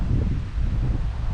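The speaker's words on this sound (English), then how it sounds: "With the wind blowing my line though" Steady wind blowing across a microphone outdoors at a fishing spot, a continuous low rumbling buffet with gusty swells and no talking.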